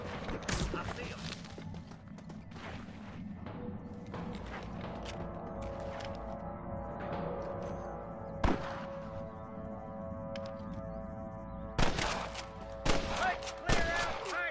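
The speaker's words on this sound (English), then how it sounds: "I can hear more gunshots." Gunfire in Red Dead Redemption crackles in scattered sharp shots and a few louder bursts, mixed with hoofbeats, game music and voices speaking.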